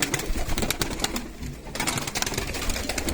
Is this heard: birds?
yes